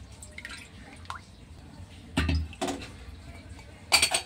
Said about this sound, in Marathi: आता इथे 2 कप मी दूध घेते